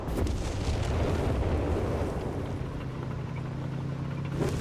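A 17-pounder anti-tank gun in Company of Heroes 3 fires at German panzers, a heavy booming blast with rumbling low-end tail that stays loud and dense before fading, with no talk over it.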